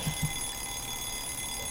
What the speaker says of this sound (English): I was woken up by the noisy alarm clock.